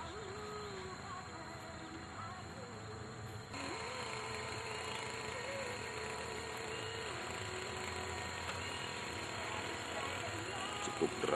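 An 18 HP engine pumps water into a flooded chili field, a continuous mechanical drone running steadily throughout, fairly distant and even, growing slightly louder partway through.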